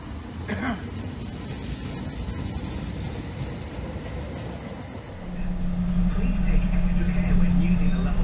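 A Tyne and Wear Metro train runs on rails with a continuous rumbling roar that grows heavier and adds a steady humming drone partway through.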